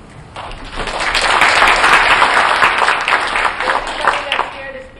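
Meeting audience at a public hearing breaking into applause, building quickly from quiet into a brisk burst of clapping that peaks, then thins toward the end with a few scattered claps and faint voices.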